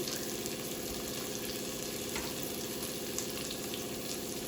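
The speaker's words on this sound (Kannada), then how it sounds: "ಇವೆಲ್ಲ ಕ್ಲೀನಾಗಿ ಫ್ರೈ ಮಾಡ್ಕೋಬೇಕು" Garlic and cinnamon sticks frying in a pan for mutton leg soup give a steady, even sizzle throughout with no pauses.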